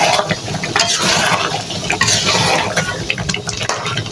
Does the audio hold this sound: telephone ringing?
no